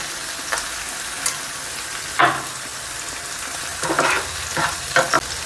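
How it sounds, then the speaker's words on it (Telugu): Onions and green chillies fry in a pan for restaurant-style chilli chicken, a steady close sizzle broken by occasional scraping stirs of a spatula against the pan. "ఆనియన్స్ మిర్చి వేయించుకోండి దోరగా వేగాక క్యాప్సికం వేసుకోండి"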